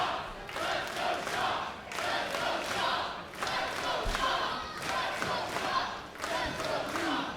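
Wrestling crowd at a Maple Leaf Pro show at St. Clair College in Windsor, Ontario, cheering and chanting for Gisele Shaw, a steady loud roar with rhythmic surges of voices throughout.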